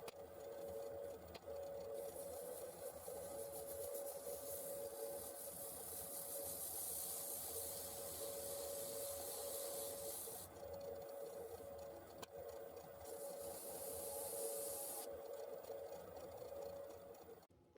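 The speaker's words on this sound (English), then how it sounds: "And back onto sanding again, up to 400" Sanding a walnut bowl spinning on a woodturning lathe, a steady motor hum and tonal whine with a rising hiss of abrasive paper on wood, coming and going in long stretches, faint and without talk.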